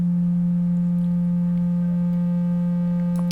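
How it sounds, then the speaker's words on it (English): A pure synthesizer sine wave tone, a steady smooth hum held at one low pitch, loud and alone for a few seconds with a faint click near the end. "This is the sine wave."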